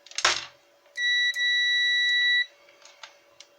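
A continuity tester's probes give one steady, loud electronic beep that latches and holds for about a second and a half, following a sharp clack at the start, and a few faint clicks come after it.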